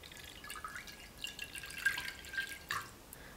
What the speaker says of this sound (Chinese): 加入270克的菠菜汁儿